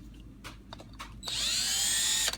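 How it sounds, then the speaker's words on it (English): A battery-operated electric drill spins a reamer through the throttle-shaft bore of a Rochester 2G carburetor base, a close high whine lasting about a second after a few light clicks and handling taps. "So we sell this reamer that you can use on a regular electric battery operated drill."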